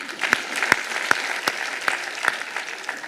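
A crowd at a wedding celebration claps in a slow, steady rhythm, eight or nine distinct loud claps in unison over a low murmur, close and clear.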